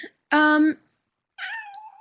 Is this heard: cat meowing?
yes